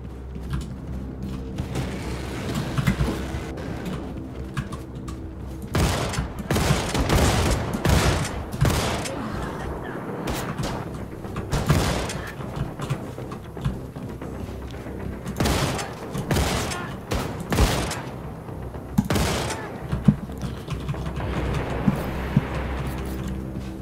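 Shotgun fire in the shooter game Wolfenstein II: The New Colossus, loud irregular blasts in clusters with mechanical clanks and thuds between them, over a low rumbling game background and no speech.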